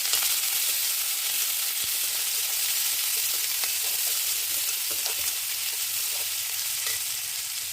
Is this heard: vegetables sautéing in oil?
yes